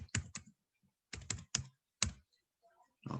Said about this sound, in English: Now I'm going to click here and type